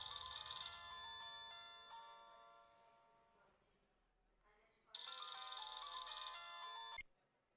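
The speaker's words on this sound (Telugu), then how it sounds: "ఏంట్రా వీడు ఫోన్ కట్ చేస్తున్నాడు?" A phone rings with a bright, steady electronic ringtone in two long bursts separated by a brief quieter gap, cutting off abruptly at the end.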